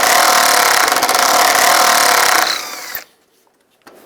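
A power tool with a T30 socket spins out bolts on a 1999-2005 Volkswagen Jetta radiator fan assembly, a loud close whir for a few seconds before it cuts off, followed by a faint click.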